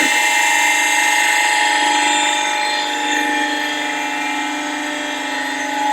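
A hydraulic press machine in a workshop runs with a constant loud mechanical drone and whine, steady throughout, close by and with no speech.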